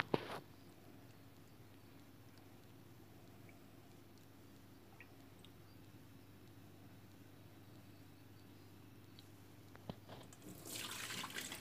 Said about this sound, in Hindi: फिर आलूओं को खुले पानी से भी धोएंगे